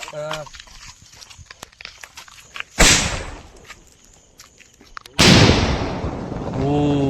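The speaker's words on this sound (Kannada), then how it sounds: "ಪಟಾಕಿ ಬಿಟ್ಟಾಯ್ತು." Firecrackers go off outdoors in Mangalore. Two loud, sharp blasts with crackling tails burst out a few seconds apart, with people talking and exclaiming around them.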